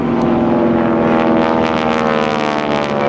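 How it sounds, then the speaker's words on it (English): A T-6 Texan (SNJ) propeller airplane flying overhead at a military open-house airshow gives a loud, sustained droning engine and propeller roar with a rough buzzing tone. "Let's take a look and listen to Kevin Russo in the T6 Texan, or the SNJ."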